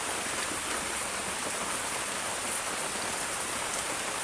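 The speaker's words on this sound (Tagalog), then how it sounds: "Dahil malakas ang ulan" Steady, dense rain pours down on a hard surface, a loud constant hiss with no pauses and no voices.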